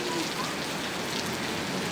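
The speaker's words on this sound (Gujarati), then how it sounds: "જોઈ શકો છો વરસાદ તો રહેવાનું નામ જ નથી લેતો" Heavy rain pours down steadily, a dense, even hiss of water hitting surfaces all around.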